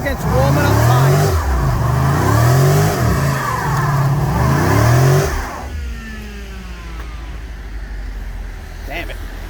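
A 2012 Chrysler 300 SRT8 with a 6.4 HEMI revs hard and loud while warming up its tires, the engine surging and falling in repeated pulls for about five seconds, then dropping to a lower rumble.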